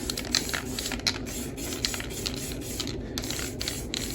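A spray can hisses paint in light, steady bursts onto an Audi TT alloy wheel, with faint clicks in between, close and continuous without talk.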